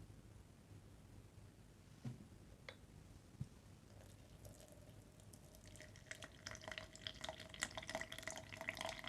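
Water pours into an Aeropress while espresso-style coffee is brewed, heard as a faint, quiet trickle with scattered drips and light patter.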